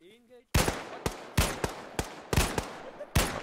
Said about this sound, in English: Like three shots from an AK at that range.